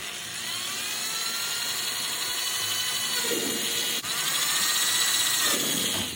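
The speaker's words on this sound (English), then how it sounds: "Use a drill bit to mark where I want the holes to go." A power drill whining steadily while boring holes in a model O-scale boxcar, a close, continuous high-pitched spin with pitch rising and falling as the bit bites, with a brief dip midway.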